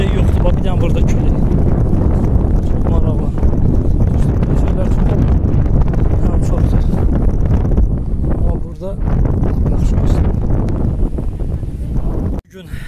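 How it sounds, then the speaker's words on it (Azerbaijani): Strong wind blowing across a hillside, buffeting the microphone with loud, continuous roaring rumble and gusts, briefly dipping near the end. "Bak, bir dənə burada külək."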